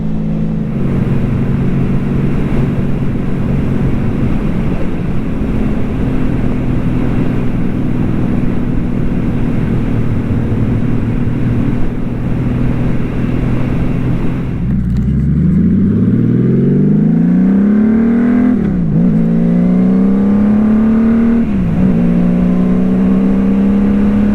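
A Honda Valkyrie motorcycle engine hums steadily and loud while riding through a gorge, then drops and rises in pitch through a few gear changes and throttle swells.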